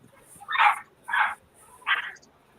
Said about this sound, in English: that's somebody else's raggedy dog